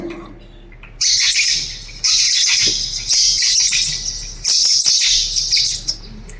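A voice imitates lovebirds with bursts of high, shrill chirps and twittering, close and fairly loud, broken by brief pauses.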